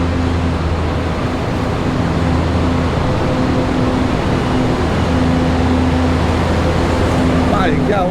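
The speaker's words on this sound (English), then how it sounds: "The trolley. That's really a noisy" A noisy trolley engine rumbling through historic Galveston, Texas: a loud, steady low drone with a humming tone that holds for several seconds, over faint street noise.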